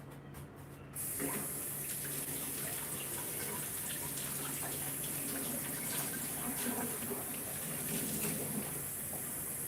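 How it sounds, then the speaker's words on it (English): Water runs steadily from a tap into a dog's water dish, a continuous hiss and splash that starts abruptly after a brief pause and holds at moderate level throughout, close by. "I'll fill up his water dish."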